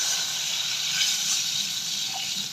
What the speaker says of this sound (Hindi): अब हम इसमें चावल के मुताबिक पानी शामिल कर रहे हैं